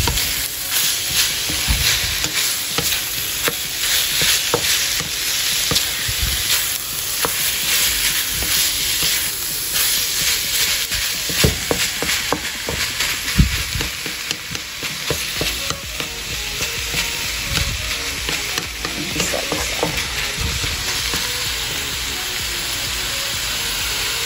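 Pork and vegetables for empanada filling sizzle steadily in a pan, with frequent scraping and clacking of a spatula stirring throughout, fairly loud and close with no talking.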